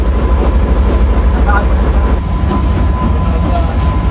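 A Sri Lankan railway locomotive pulls away from its train during an engine change on the Colombo to Batticaloa line, with a loud, steady diesel rumble and faint rail clatter, plus a thin whine and some background voices.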